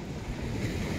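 Surf washing onto the white-sand beach at Kuala Baru, Aceh Singkil, a steady, full rush of waves mixed with wind buffeting the microphone, no voices.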